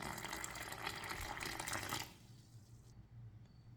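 Lukewarm water poured into a bowl for zucchini bread dough, a loud splashing gush for about two seconds before it stops abruptly, leaving quiet room noise.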